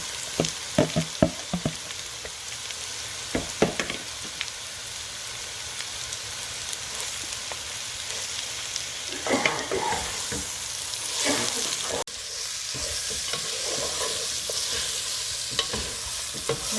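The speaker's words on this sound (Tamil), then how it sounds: "இப்படி ஒனியன் வதங்கினா பிறகு நான் மேரினேட் பண்ண மீட்டை மிக்ஸ் பண்ணுவேன்." Marinated mutton mixed into sautéed onions in a pan for a mutton curry, with a continuous sizzle and spatter, scraping and stirring clatter in bursts, and the frying growing louder toward the end.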